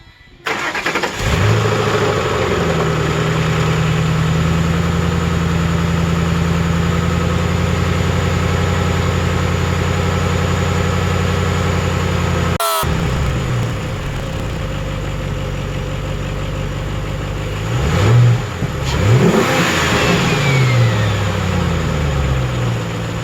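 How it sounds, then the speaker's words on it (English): A car engine cranks and fires up after repair work, then settles into a long steady idle before a cut, followed by a few throttle blips that rev it up and back down. "I'm going to fire it up and get the oil and coolant cycle a little bit and see where I'm at."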